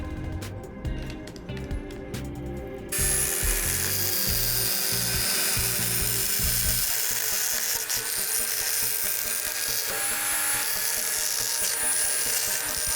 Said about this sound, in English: so I had to drill more holes